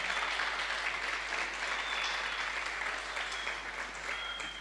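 Audience applause fills a crowd at a gathering, a dense and steady wash of clapping held at an even level throughout, with no talk over it.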